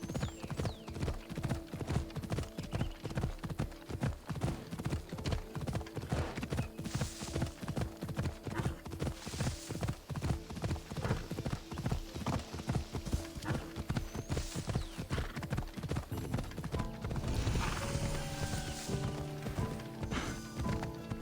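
Horse galloping in Assassin's Creed Odyssey, a steady rapid clip-clop of hooves running continuously and loudly alongside a full game soundtrack, with a brief whinny near the end.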